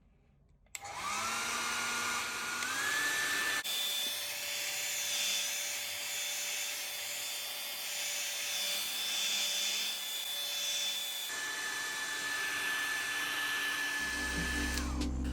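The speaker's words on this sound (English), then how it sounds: "Use a heat gun or hair dryer to heat up the surface of the back panel." A heat gun or hair dryer blows steadily on the back panel of a Google Pixel 3. It is a loud, continuous whine-laden whoosh that switches on sharply, shifts pitch partway through, and cuts off near the end.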